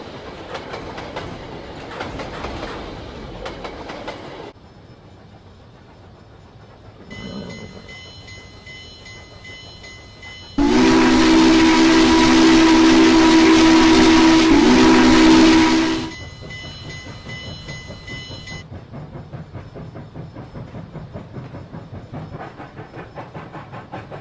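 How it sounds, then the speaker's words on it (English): The Coastal Daylight Express passenger train rolls toward a station near the rail yards with steady clatter, then sounds a long, loud whistle blast before the rumbling continues. "Meanwhile, Daylight was pulling the Coastal Daylight Express straight to the station near the yards."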